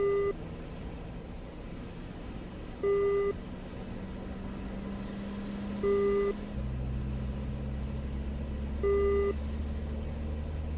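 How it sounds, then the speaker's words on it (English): Su-33 jet engine in the DCS flight simulator, the right number 2 engine spooling up on a carrier deck with a rising turbine drone and a hum that deepens partway through. Evenly spaced cockpit warning beeps repeat about every three seconds. "let's start the right or number 2 engine"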